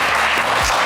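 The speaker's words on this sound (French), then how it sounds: "on vous applaudit bien fort." A studio audience on a French-language variety show claps loudly for a guest in a brief, dense burst lasting under a second.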